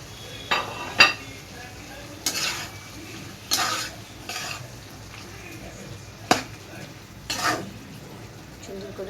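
A utensil stirs chopped onion and a chili in a pan while beef pasta cooks, giving occasional scraping clinks against the metal over a faint sizzle, with quiet gaps between the strokes.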